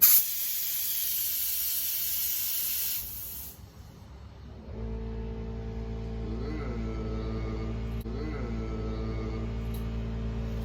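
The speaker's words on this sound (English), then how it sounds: "do a couple practice sprays on like some scrap wood" A spray gun loaded with paint gives a loud, steady broadband hiss for about three seconds, then cuts off, leaving a quieter room with a low steady hum and faint tones.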